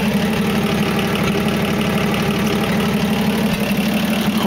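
Toyota Land Cruiser FJ40 engine idling with a broken exhaust muffler, a loud, rough and steady drone with a pulsing low knock, heard close up with no talking.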